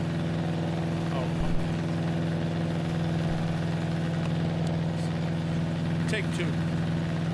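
A small engine on a homestead idles steadily, throttled down as low as it will go, a continuous low hum with a strong droning tone throughout, with someone briefly speaking over it.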